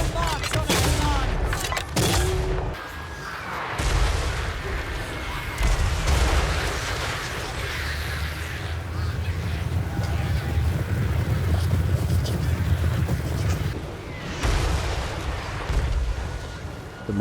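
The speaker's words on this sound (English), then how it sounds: "The mortar fire worked as intended" Mortar fire in the Total War: Warhammer III battle game booms and rumbles continuously over wind and distant gunfire, dense and loud with no clear pauses.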